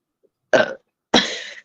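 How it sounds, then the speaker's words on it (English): Two loud, close burps in quick succession, the second longer and trailing off, with silence in between. "Burping."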